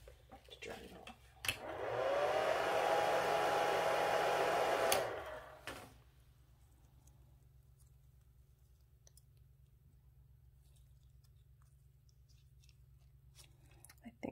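A hair dryer blows to dry a cleaned vintage Coro bar brooch from the 1900s, a steady close whir with a faint whine lasting about three seconds before it switches off into quiet room tone.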